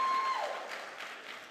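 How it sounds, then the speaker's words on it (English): Graduation ceremony audience applauding the school principals in a large hall, a steady spread of clapping that slowly fades, with a brief tone at the start and no talk. "We can applaud the principals, that's okay, cheer your principals on."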